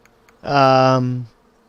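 In the hive-building video game Hive Time, a bee gives one short, loud, buzzy drone that lasts under a second and then cuts off, with near silence before and after it.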